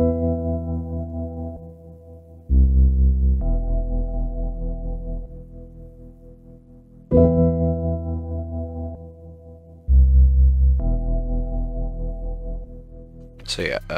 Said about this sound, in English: a simple piano